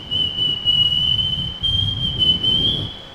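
A steady, sustained high whistle imitating a weaver bird's morning song runs almost unbroken for about three seconds, held at an even pitch over a low background rumble.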